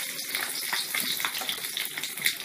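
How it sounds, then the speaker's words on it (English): Stuffed capsicums frying in hot oil give off a dense, steady sizzle with crackling pops throughout, close and fairly loud, with no talking. "Now the oil is hot. Carefully place all your capsicum."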